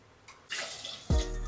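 Water is poured from a glass into rice for prawn pulao: a short splashing rush that ends in a deeper gush into the pot, close and clear, with no voices.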